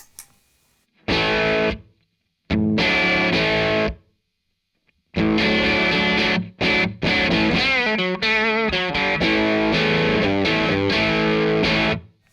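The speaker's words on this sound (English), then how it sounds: "you can hear that it's really driving the front end of that amplifier and getting some really nice distortion" Electric guitar through a Red Witch Pentavocal Tremolo pedal at full volume as a boost, into a 65amps Soho amplifier, plays overdriven chords and riffs in several bursts separated by silences, with a thick distorted tone and a wavering pulsing texture.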